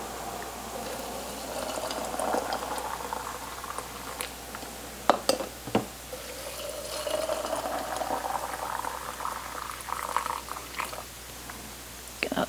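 Hot water from a kettle is poured into canning jars of Great Northern beans being prepared for pressure canning, a soft rising gurgle broken by a few sharp clinks of glass.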